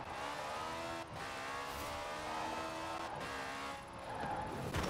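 BAC Mono car engine in Forza Horizon 4, a high-revving racing engine howling steadily at speed, with brief drops at the gear shifts before it climbs again, close and continuous.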